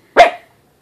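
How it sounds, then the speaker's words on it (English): A single sharp dog bark, close and loud, a short burst that fades quickly into silence. "that's my dog, one of them."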